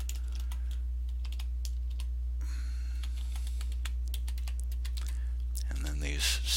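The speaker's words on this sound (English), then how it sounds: "Type in your username and password." Rapid, uneven clatter of typing on a computer keyboard as a username and password are entered, close and fairly quiet over a low steady hum, with a brief shuffle near the end.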